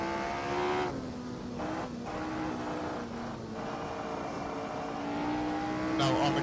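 A vintage Lotus Formula 1 race car engine accelerating hard on a circuit, its high-pitched howl rising steadily through the gears, loud and close, with a brief rasp of shifts and tyre noise at the end.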